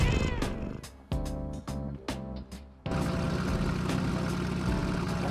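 A cat meowing in the Persona Q2 video game, a few clear tonal cries followed by a steady background of game music and sound, with no talking.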